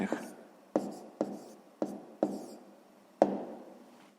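Numbers written by hand on a board during a sixth-grade math exercise on adding rational numbers: six sharp, close strokes in an uneven rhythm, each followed by a short fading scrape, with no talking.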